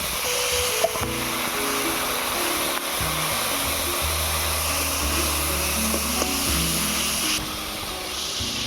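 Hilsa fish with salt, turmeric and chilli powder sizzling steadily and loudly in a pan as a little water goes in, a dense continuous frying hiss throughout with faint clatter and no talking.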